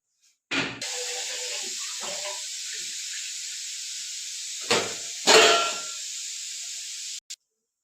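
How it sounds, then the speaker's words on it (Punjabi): A pressure cooker cooking mustard greens (sarson da saag) gives off a loud hissing steam whistle that runs for several seconds, then stops abruptly, with short sharp bursts at its start and end. "ਲਓ ਜੀ ਲਾਸਟ ਸੀਟੀ ਵੱਜ ਗਿਆ 15 ਸੀਟੀਆਂ ਵੱਜ ਗਈਆਂ ਨੇ"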